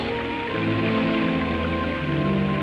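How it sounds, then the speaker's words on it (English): Simulated rain pours steadily onto equipment during an environmental rain test, a dense, even hiss of spray and drops that holds at a constant level throughout, with no voices. "And rain tests."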